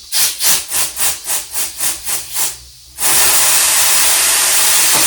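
A tubeless bike tire seating its bead: a rapid series of about nine rhythmic bursts of air hissing, then a loud, steady rush of air that continues to the end.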